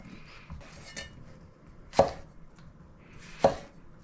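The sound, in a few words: splitting tomatillos in half with a knife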